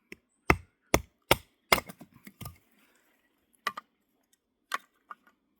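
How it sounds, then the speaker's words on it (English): A survival knife is driven into solid oak with a knot, giving a series of sharp, close wooden knocks in a quick run, then a few sparse strikes after a pause. "So I've got solid oak, knot at the bottom. So sink the knife in."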